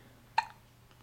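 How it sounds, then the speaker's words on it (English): A baby gives one short, sharp hiccup, quiet and close, followed by near silence. "Oh man, those are some big hiccups."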